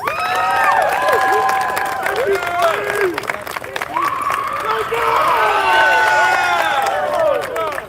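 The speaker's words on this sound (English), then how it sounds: "Round of applause for everyone." Crowd cheering and shouting at the App-5 Championship finals between UVA and QC Pittsburgh at the trophy presentation, with lots of high whoops and yells over steady clapping, loud and continuous throughout.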